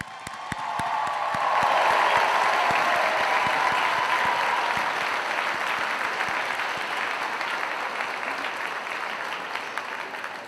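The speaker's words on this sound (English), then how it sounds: "You all deserve a loud and lengthy round of applause." Sustained applause from an audience at a nursing pinning ceremony for graduates, swelling quickly to a dense, even roar of clapping and holding steady for the full length.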